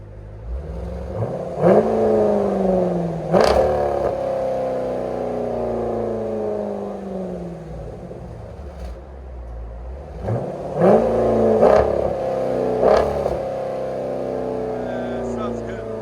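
A 2020 Jeep Grand Cherokee SRT with the 6.4L HEMI V8 and a Borla Atak cat-back exhaust revs in a few deep, loud throttle blips that rise and fall, with a quieter idle between them and voices talking nearby.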